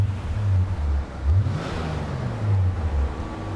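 A quiet Nissan RB25 engine in an R34 GTT revs up toward 7,000 RPM, rising in smooth surges and easing back, heard up close and continuous.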